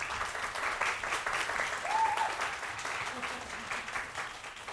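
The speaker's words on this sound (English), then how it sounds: "give Professor Hans a big applause" Audience applause at a university symposium graduation ceremony, steady dense clapping from a crowd throughout, fairly loud and even, with a faint voice briefly audible beneath.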